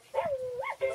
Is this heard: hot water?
no